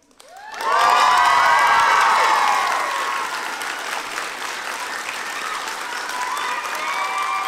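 A comedy show audience bursts into loud cheering and applause that swells quickly, peaks, then settles into sustained clapping and shouts with some children's voices mixed in.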